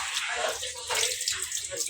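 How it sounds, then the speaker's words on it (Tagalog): Water splashes steadily from a faucet supplied by a 1 hp electric pump drawing deep-well water, a close, continuous hiss and patter in short bursts. "ito na nga pala yung faucet nila mga kadiskarte. Check natin. Ayan. So may tubig na."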